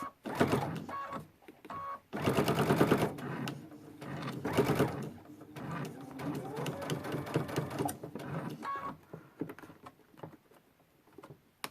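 Sewing machine stitching quilting lines through a fabric trivet, running in loud bursts of rapid needle patter with short pauses between stitching runs, close up and alone.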